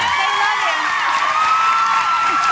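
A studio audience at a television talk show applauds and cheers loudly and steadily, with whoops mixed into the dense clapping throughout.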